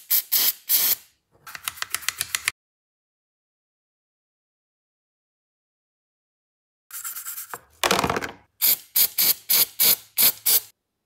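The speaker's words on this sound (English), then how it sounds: "I'm using carb cleaner to clean the throttle body." Carb cleaner sprayed onto a throttle body in repeated short hissing bursts, a cluster of quick sprays, a long silence, then a longer blast followed by several rapid spurts, close and sharp.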